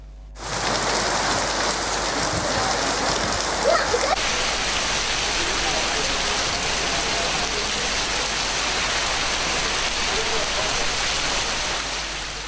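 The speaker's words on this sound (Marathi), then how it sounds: "पळयात भर गरमेत पावसाचो उटंगार।" Heavy unseasonal rain during summer heat in Sattari and Bicholim talukas, Goa, pours down steadily in a dense, loud roar that continues without a break from start to finish.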